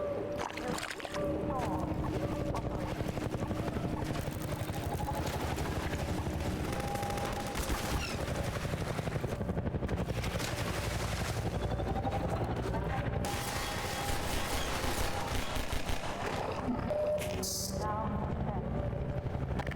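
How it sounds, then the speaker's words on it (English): Helicopter gunship in Half-Life 2 firing on the player while dashing between cover, a continuous dense barrage of gunfire bursts with rotor and engine drone, loud and sustained throughout under game music. "designed as a dash from cover to cover under helicopter fire"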